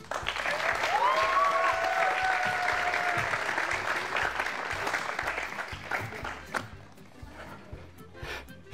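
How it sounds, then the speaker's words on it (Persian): Studio audience applauding at a Persian TV comedy show, a dense sustained wash of clapping that fills the room and slowly thins toward the end, with a faint voice rising briefly near the start. "آقا مرتضی مناری رو تشویق کنیم."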